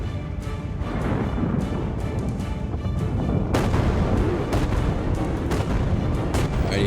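Cannon fire in the video game Lost Skies, a series of heavy booming shots over a continuous rumbling battle background, each blast loud and close with some echo.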